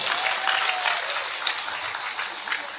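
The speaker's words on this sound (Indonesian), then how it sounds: "Tepuk tangan untuk Anda." An audience at an Indonesian religious sermon gives a brief, even round of applause, steady and fairly loud, with faint voices mixed in.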